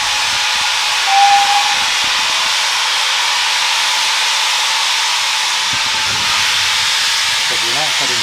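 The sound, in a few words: steam train whistling and hissing steam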